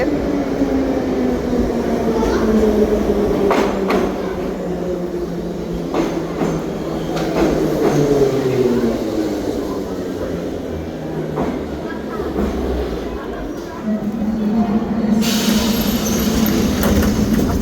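Continuous metro train rumble with gliding tonal whines of motors and scattered clanks, steady and fairly loud throughout.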